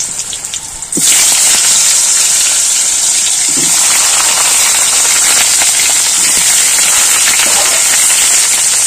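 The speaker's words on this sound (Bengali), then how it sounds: "সেদ্ধ করা আলুটা দিয়ে দিয়েছি, দিয়ে একটু ভাজবো, একটু লাল লাল করে ভেজে নেব।" Boiled potatoes drop into hot oil spiced with whole dried chillies, garam masala and bay leaf for a coconut-milk potato curry, bursting into a loud, steady, close hiss that fills the pan after a quieter opening second.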